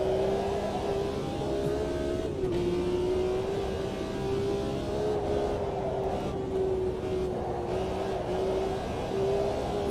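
Racing game engine drone in a sim race, a continuous loud revving tone that dips and climbs slightly as the throttle is feathered, with no talk over it.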